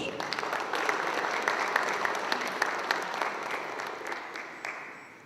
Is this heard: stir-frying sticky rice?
no